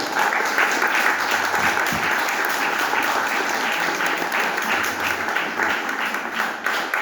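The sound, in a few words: audience applause after a dance performance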